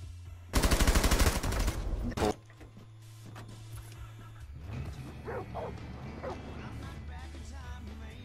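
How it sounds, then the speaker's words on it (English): Video game dog barking in a short, loud burst of rapid barks mixed with heavy gunfire, followed by quieter game sounds and a person talking. "Not the dog."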